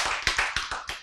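A small group applauds during a sermon on Adam becoming a sinner, several close, sharp claps in a brief irregular burst, with no voices over them.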